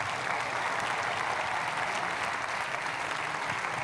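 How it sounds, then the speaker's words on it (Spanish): A crowd at an official ceremony for a state cultural heritage decree gives steady, even applause, a continuous wash of many hands clapping. "El aplauso, por favor."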